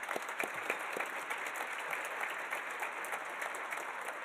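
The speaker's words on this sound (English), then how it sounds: "Let's have a round of applause for them." Steady applause from a business community gathering's audience honoring corporate and media partners, a dense even patter of many hands clapping at moderate distance, sustained throughout.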